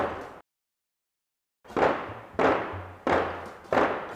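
An old mechanical sound-effect device in a museum makes imitation gunshots: after a brief silence, four sharp, fairly close bangs at an even rhythm, each decaying quickly.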